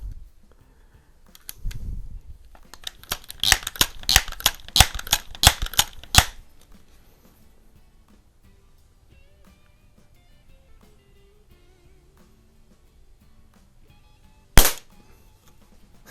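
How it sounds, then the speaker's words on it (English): Early 1970s Crosman 760 air gun being pumped and fired: a dull thump, then a quick series of sharp clicking pumps, and after a long quiet stretch a single sharp crack, close and unaccompanied by talk. "I rebuilt this gun a couple years ago. Still shooting pretty good."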